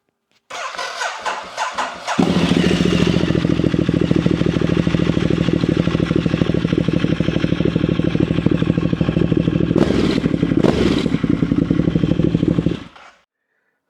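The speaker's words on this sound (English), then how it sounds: "So this is with the standard exhaust." A Ducati Multistrada engine with its standard exhaust starts and settles into a loud, steady idle with a deep exhaust rumble, briefly blipped a couple of times near the end.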